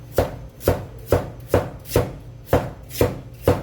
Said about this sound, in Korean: 그래서 얘네들을 채를 썰어 줄 건데요